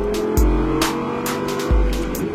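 An Audi R8 RWS accelerating hard on the Le Castellet race track, loud engine roar heard from close by, with two sharp gear-change dips and rising revs.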